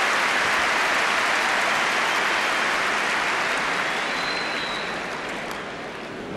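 Tennis crowd at the 2005 Rotterdam final between Federer and Ljubicic breaking into sustained applause after a point, a dense, steady wash of clapping that fills the arena and only slowly eases toward the end.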